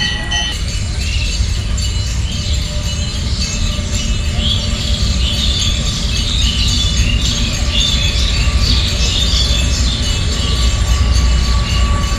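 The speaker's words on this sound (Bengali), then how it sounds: "এখান থেকে কি সুন্দরভাবে ট্রেন যাচ্ছে দেখুন" A train runs along a railway line right beside a temple, producing a loud, continuous rumble and rattle of wheels close by that never lets up.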